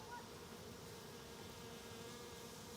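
Honeybees at a hive that has a missing piece of wood, buzzing in a steady, dense drone that holds evenly throughout, close by and with no voices.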